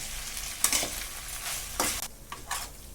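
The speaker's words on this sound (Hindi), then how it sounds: "इसको करीब 3 से 4 मिनट मिक्स करते हुए इस तरह फ्राई होने देंगे।" Veg chowmein noodles being stir-fried in a pan, a soft steady sizzle broken by a few louder bursts of tossing and scraping, close by, with no voices.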